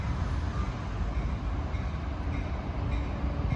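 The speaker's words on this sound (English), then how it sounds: "Approaching at 3:45 is train 308, Caltrain." A Caltrain limited stop train, number 308, approaches Burlingame station on the peninsula, making a steady, close rolling rumble of wheels on rails that holds at an even level throughout.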